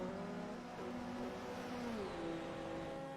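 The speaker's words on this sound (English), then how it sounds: "Now we see the cars starting to come across the line." Touring race cars crossing the line at a round of the BTCC, a continuous blend of engine drones with rising and falling pitches as several cars pass, steady and moderately loud with no talk.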